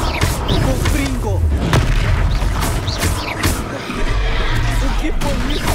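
Confringo fire spell explosions in Hogwarts Legacy sound as repeated booming blasts with crackling bursts and magical whooshes, loud and close, layered over game effects and a voice talking in places.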